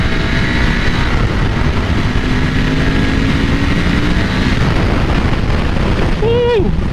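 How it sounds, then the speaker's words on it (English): A 2001 Ducati 996 motorcycle being ridden, its engine a loud, continuous rumble mixed with heavy wind noise close to the rider, and a brief vocal whoop near the end. "We won't be really opening this bike up."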